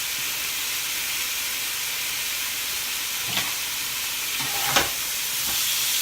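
Turkey breast steaks fry in a hot pan with a steady, even sizzle and hiss, broken by two or three brief louder spits or pops of fat near the end; no voices.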